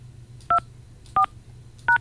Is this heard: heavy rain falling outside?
no